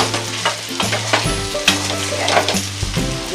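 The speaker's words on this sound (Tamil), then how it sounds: "நல்லா ஃப்ரை ஆயிடுச்சு." Chicken varuval, a dry-roasted chicken fry, sizzles steadily in a pan, with a spoon stirring it through the bubbling hiss. The sound is close and continuous, with no voices.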